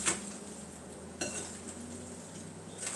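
Seasoned chicken pieces are mixed in a bowl, with close clinks and scrapes of a utensil against the dish, a sharp knock midway and soft stirring sounds between.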